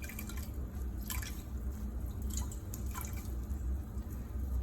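Water drips from a rinsed cotton yarn skein being prepared for Kool-Aid dyeing, with scattered light drops falling over a steady background hiss.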